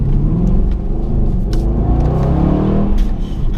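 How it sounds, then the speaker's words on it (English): Aston Martin Vantage AMR with a modified, louder-than-stock exhaust accelerating on twisty Monaco roads, a deep, loud rumbling engine note climbing through the revs, with a few sharp crackles over the sustained roar. "I've had the exhaust done, so it's a lot louder than a stock Vantage AMR"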